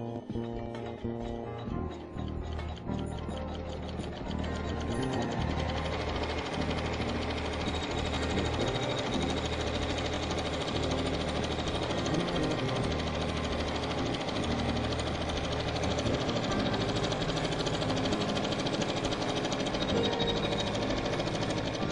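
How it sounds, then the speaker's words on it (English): An embroidery sewing machine sews a tack-down stitch across fabric on a quilt block, giving a steady, loud, continuous mechanical hum with rapid needle chatter that runs unbroken throughout. "you're going to lay it over the entire area of the block, and you're going to sew the tack down stitch"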